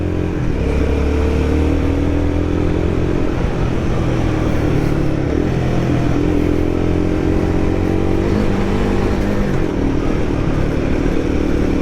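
A Royal Enfield Guerrilla 450 motorcycle engine drones loud and close while riding mountain roads, its pitch rising and falling through repeated gear changes and throttle shifts.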